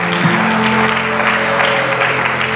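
Congregation applauding during a church sermon, a loud sustained wash of clapping from many hands in a worship hall, with a faint tonal hum running beneath.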